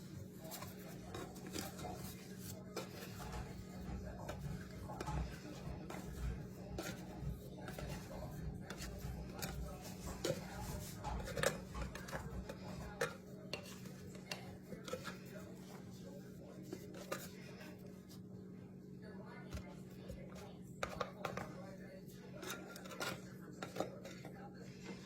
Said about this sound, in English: scrape out your dough